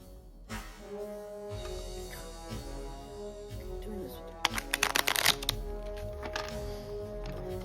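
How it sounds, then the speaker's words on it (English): A deck of playing cards being riffle-shuffled at a tabletop game session, a quick burst of crisp fluttering clicks in the middle under steady background hum and quiet talk. "I'm going to shuffle half, you're going to shuffle half."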